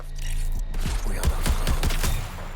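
Rapid gunfire in the extraction shooter Marathon, a burst of loud, closely spaced shots with sharp repeated cracks over about two seconds, heavy and near, with low rumble beneath.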